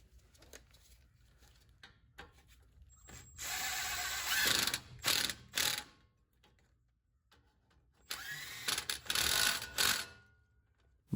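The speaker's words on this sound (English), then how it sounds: "install the brake caliper onto the assembly and reinstall the 2 bolts" Bolts being reinstalled on a Toyota 4Runner front brake caliper assembly with a ratchet, two close bursts of rapid clicking pawl ratcheting separated by brief pauses and small metallic handling sounds.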